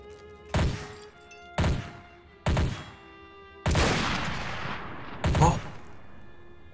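Gunshots in Garry's Mod Trouble in Terrorist Town: five loud, sharp reports spaced about a second apart, the fourth trailing into a longer rumbling burst, set against quiet game ambience.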